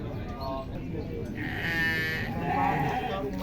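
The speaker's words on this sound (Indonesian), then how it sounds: "banyak domba, sekitar ada 50-an domba pagi hari ini" Sheep bleat at Pasar Muning, a livestock market where about fifty sheep are gathered in the morning. Several wavering bleats sound close and fairly loud over steady market chatter and crowd noise.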